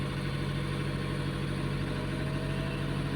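A Tata Intra V30 diesel engine idles steadily nearby, a continuous low, even rumble with constant vibration and no pauses or rev changes.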